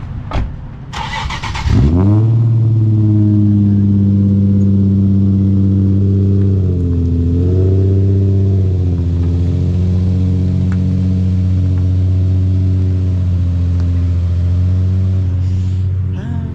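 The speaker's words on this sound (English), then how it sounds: "Hear the cold start." A Nissan 350Z HR with a single cat-back exhaust cold-starts after a brief crank, then settles into a loud, steady, deep idle that rises a little and holds close to the microphone, with no talk.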